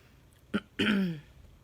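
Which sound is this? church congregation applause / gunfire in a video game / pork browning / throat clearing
throat clearing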